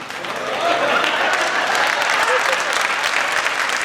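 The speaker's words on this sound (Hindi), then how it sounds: "ताली तो हम लोग ऐसे बजा रहे जिसमें बारात आए थे" An audience at a Hindi comedy poetry gathering claps in a thick, steady roar of applause that swells early and holds strong throughout, close and loud.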